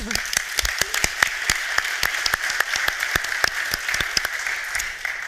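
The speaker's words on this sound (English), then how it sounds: "A round of applause for Lumo Labs." Audience applause at a deep tech innovation forum pitch session: a modest crowd's claps ring out as distinct, scattered slaps, fairly near and steady for several seconds with no talk.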